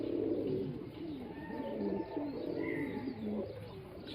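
Domestic pigeons cooing at a pigeon farm, several birds giving overlapping low rolling coos with a few faint chirps, close and steady throughout.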